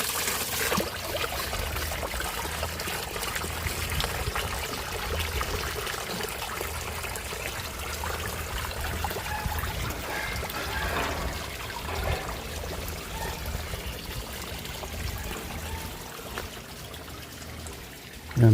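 Cold, fresh mountain spring water pouring steadily from a pipe, a constant close splashing trickle that runs unbroken with no talk over it.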